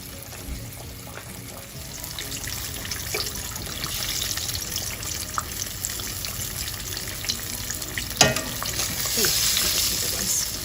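Breaded green tomatoes fry in a pan of hot oil, a steady close crackling sizzle running throughout with a few sharper pops and scrapes, loud and continuous with no talking.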